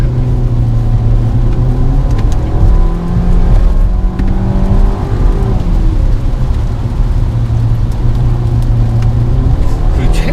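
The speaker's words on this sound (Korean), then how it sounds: "그러니까 분명히 엔진 소리는 지금 크게 들리긴 하는데" A 2017 Nissan Altima 2.5 SL engine hums loudly from inside the cabin while driving, its tone rising and shifting through gears as a voice talks over it.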